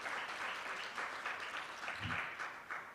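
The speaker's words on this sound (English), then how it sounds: "Give them a big round of applause." An audience at a certification ceremony applauds Kingston Freeport Terminal, a large private sector firm, with a continuous, fairly soft and distant patter of many clapping hands filling the room.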